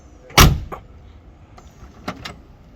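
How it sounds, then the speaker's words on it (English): A classic car's door shuts with one solid, loud thud, followed by a fainter second knock and a couple of lighter clicks and taps a moment later. "Good shut on the door."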